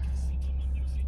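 A 2022 Toyota GR Supra 3.0 Premium in sport mode idles with a steady, deep low rumble that holds constant throughout the short stretch.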